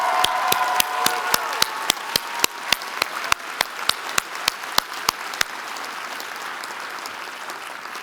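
A graduation audience at a law school ceremony breaks into applause for parents and families: dense, even clapping from a large crowd, with a few sharp single claps standing out, holding steady for several seconds, then thinning and fading.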